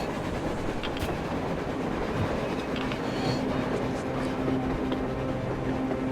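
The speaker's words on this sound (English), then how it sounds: "A train! A damn train on the surface!" Train rolling across the surface in the video game Metro Exodus, a continuous low rumble with faint rattling, heard from a distance at a steady level with no speech.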